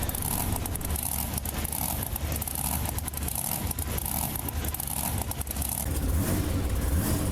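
A monster truck engine in BeamNG Drive, in a Bristol Motor Speedway arena, rumbles and revs steadily as the truck drives out, loud and continuous throughout.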